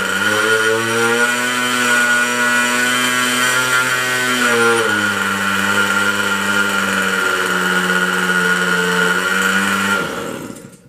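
A GMS 47 two-stroke nitro model engine runs steadily at a high, buzzing pitch, dipping slightly partway through before cutting off abruptly near the end, loud and close with no talking.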